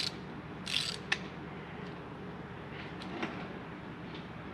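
A rebuilt Can-Am Maverick 1000 engine, turned over slowly by hand on the bench, gives quiet mechanical ratcheting and clicking with a few sharper metallic ticks spread unevenly across the turn.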